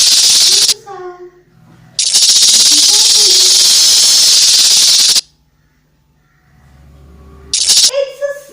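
Recorded snake hiss from a children's guess-the-sound game: a loud, continuous hiss of about three seconds, preceded and followed by a voice, with a quieter pause before the talking resumes.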